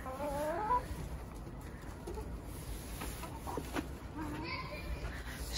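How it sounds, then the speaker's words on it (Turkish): Backyard chickens in a small garden coop, five hens being shut inside for the evening, give soft scattered clucks and calls close by, with people talking over them throughout. "Bir de tavukları var."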